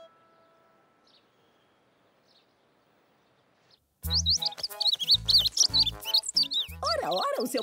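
A baby bird chirps in the animated children's series Zou: after about four seconds of near silence, loud, busy, high cartoon chirps and squeaks burst in and continue steadily.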